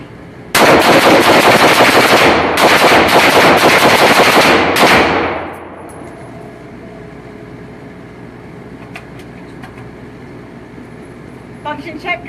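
A gun fires a whole magazine in rapid automatic bursts, loud and close, with two brief pauses before the shots stop and leave quiet room tone with faint clicks.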